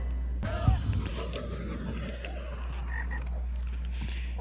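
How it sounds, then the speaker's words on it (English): A frog croaks in a scene from the animated film Tale of the Brave, a clear croak near the start over a steady low hum and faint scene sounds. "Hey, it's the frog."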